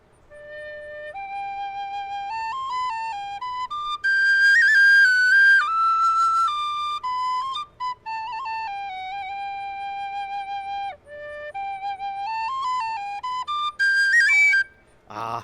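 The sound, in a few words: Tony Dixon DX001 whistle playing The Minstrel Boy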